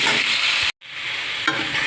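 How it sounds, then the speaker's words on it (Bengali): Potato and papaya pieces fry in a pan with a little salt and turmeric, giving a steady, close sizzle with stirring scrapes that stops briefly and then resumes. "একটু ভালো করে আমি ভেজে নেব।"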